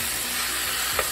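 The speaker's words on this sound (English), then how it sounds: "Everything's cooking and sizzling just right." Steady broadband hiss of steak sizzling in a hot pan, continuous and close, with a small clink near the end.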